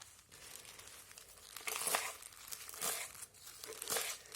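Spinach leaves for kadhi being chopped into small pieces before grinding, a run of crisp crunchy cuts and leafy crinkles coming in irregular bursts, close and fairly quiet with no talk.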